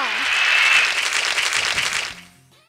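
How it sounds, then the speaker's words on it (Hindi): A school audience applauds a class 5 performance with loud, dense clapping that swells, then fades out quickly near the end. "तो एक बार जोरदार तालियां से स्वागत कीजिए माउंट क्लास परफॉर्मेंस का।"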